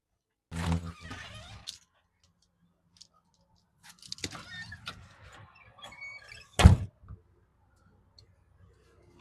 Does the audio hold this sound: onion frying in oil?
no